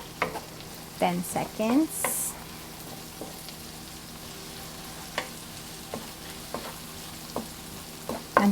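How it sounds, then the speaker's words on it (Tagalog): Garlic sizzles faintly in a pan for seafood fried rice while a utensil stirs it, giving soft intermittent scraping clinks over a steady low frying hiss, with a voice briefly speaking. "pwede na nating i-add yung ating garlic. Halo lang natin"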